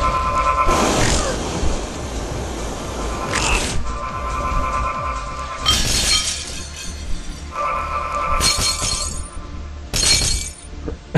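Glass shatters repeatedly in the physics-based video game Happy Wheels, several loud crashing breaks spread across the stretch with tinkling debris and a brief grunt between them.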